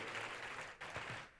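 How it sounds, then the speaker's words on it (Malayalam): Audience clapping at a church Bible convention, a brief burst of applause heard from a distance and fairly faint. "നല്ലൊരു കൈയടി കൊടുക്കാം."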